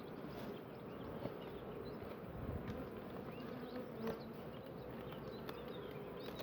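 A bee hums faintly around beehive nuclei, a soft, continuous buzz with small rises as it moves close and away, with no talking.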